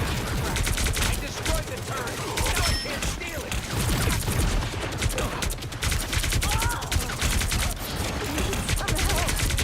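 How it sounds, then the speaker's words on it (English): Rapid, sustained gunfire in Marvel Rivals hammers at a turret in a dense, loud stream of shots, with crackling impacts and busy game effects layered throughout. "I'm shooting turret."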